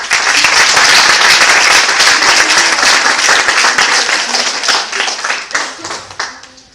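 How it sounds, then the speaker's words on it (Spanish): An audience at a university oratory contest breaks into loud, close applause, with dense clapping that holds strong before thinning into scattered claps and fading out at the end. "quien también pide un fuerte aplauso para él"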